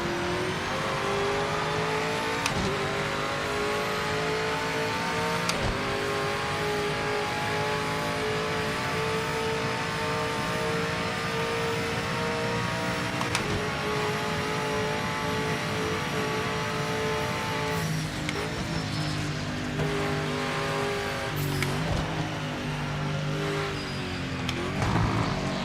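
A race car in Project Motor Racing holds a loud, steady engine note through a long run. It revs up and down with gear changes, and brief tire squeal and scrubbing come through as it drifts through corners.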